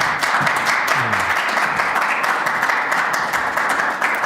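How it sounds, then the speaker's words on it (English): Audience applause at an interreligious dialogue talk in a hall, sustained thick clapping from many hands at a strong, steady level, with a brief low murmur near the start. "You can applause."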